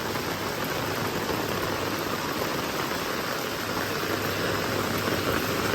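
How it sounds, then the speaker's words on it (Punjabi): Heavy morning rain pours down on a flooded village street with overflowing drains, making a loud, steady, dense hiss that fills the whole stretch with no pauses and no voices. "ਫੁੱਲ ਭਾਰੀ ਮੀਂਹ ਪੈ ਰਿਹਾ"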